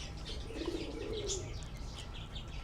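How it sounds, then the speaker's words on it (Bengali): Pigeons coo softly at Sonargaon, a low murmuring call drifting at a distance under faint chirps and quiet ambient noise, with no talk. "দেন হচ্ছে কবুতর আছে এদিকে দেখতে পাচ্ছেন"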